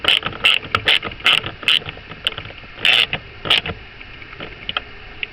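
Bolts are tightened on the blower motor of a 2001–2007 Chrysler Town and Country, a close series of quick ratcheting clicks in short bursts separated by brief pauses.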